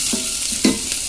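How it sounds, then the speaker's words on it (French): Chopped shallots sautéing in a hot pan as the base for a smoked salmon, spinach and potato gratin. A bright, steady sizzle with a couple of quick crackling bursts, loud and close, with no voices. "Donc je fais revenir mes échalotes."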